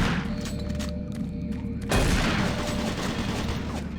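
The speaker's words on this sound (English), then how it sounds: "Warning. Automated turret guns online." Automated turret guns in the DOOM 3 video game open up in a sudden dense burst of rapid fire, loud and close, over a humming ambient background and a faint announcer-style voice.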